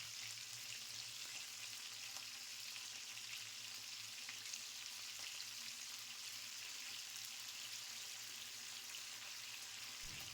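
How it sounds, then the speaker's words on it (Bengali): Eggplant pieces fry in a little oil with a faint, even, continuous sizzle that carries on unbroken, with no voices. "দেখুন আমি যেরকমভাবে বেগুনগুলো দিলাম তেলের মধ্যে"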